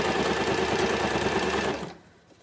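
A sewing machine runs steadily through a short back stitch on a fabric seam, loud and close with a rapid even chatter, then stops abruptly near the end, leaving quiet.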